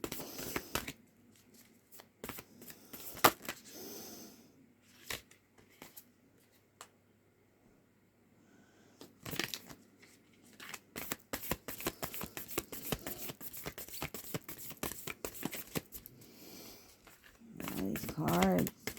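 Oversized tarot cards being shuffled by hand, making bursts of riffling, flapping card noise that grow denser and steadier in the second half, close up with brief pauses between.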